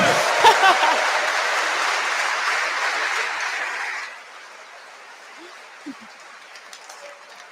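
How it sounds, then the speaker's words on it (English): An audience applauds loudly at a solar car reveal event, a dense burst of clapping that holds for about four seconds, then stops abruptly and leaves faint room noise with a few scattered sounds. "please give a big applause to Daan van Harren"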